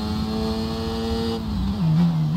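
A Formula 1 race car in the F1 22 game at the Brazil round, its engine holding a loud, steady high whine near the listener before the pitch drops briefly and settles lower, with no talking.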